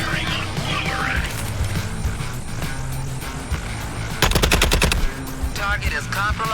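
Gunfire in the video game Suicide Squad: Kill the Justice League, loud rapid bursts with a dense automatic volley near the end, layered over game effects and background music.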